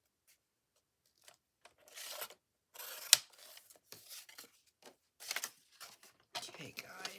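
Scissors snipping through paper for a handmade waterfall journal, a few short close cuts and rustling between pauses, with a voice speaking at moments.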